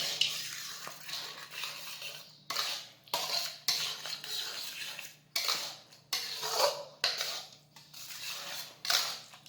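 Cashews, raisins and cardamom are mixed into a pan of bottle gourd halwa: about a dozen rhythmic metal spoon scrapes against the pan, close and without talk.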